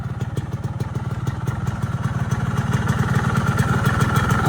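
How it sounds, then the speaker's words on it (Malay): A motorcycle engine with a Mikuni carburetor and standard original exhaust idles steadily close by, a rapid even low putter with light mechanical clatter, slowly rising in loudness. "Boleh dengar bunyi enjin kan"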